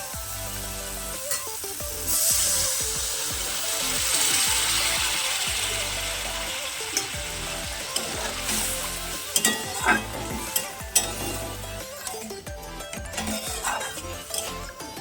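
Fried spice paste for egg curry sizzles steadily in a pan after water is poured in, with stirring scrapes and a few sharp utensil clinks toward the end.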